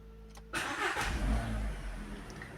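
A car engine cranks and catches, with a short starter burst, then a steady low rumble as it settles into idle, close and fairly loud.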